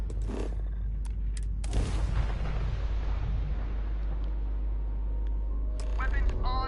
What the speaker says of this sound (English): Weapons online. Opening fire.